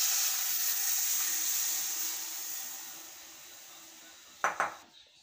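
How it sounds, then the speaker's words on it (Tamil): Water pours steadily into a pot of prawn kola urundai curry, a broad hissing rush that slowly fades, followed by a couple of sharp clinks of a spoon against the pot. "இப்போ இதுக்கு தேவையான தண்ணி சேர்த்துக்கிறேன்."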